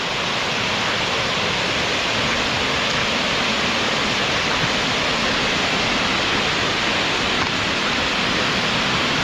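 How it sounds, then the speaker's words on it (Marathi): Water pours down over a dam in a steady, close, loud roar that stays unbroken from start to finish, with no voices. "तिथे बांध घातल्यामुळे पाणी एकदम वरून खाली येत आहे"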